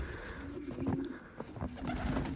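Pigeons coo in a loft, soft repeated low calls overlapping one another at close range, with no voices.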